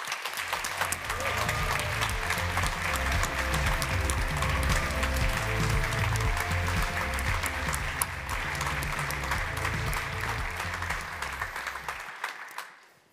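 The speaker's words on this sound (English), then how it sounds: "please give a great applause to Network Team" Sustained audience applause at the Neos Awards 2022 ceremony, steady dense clapping from a large crowd for about twelve seconds before fading out.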